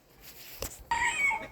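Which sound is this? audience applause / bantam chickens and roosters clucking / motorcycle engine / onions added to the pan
bantam chickens and roosters clucking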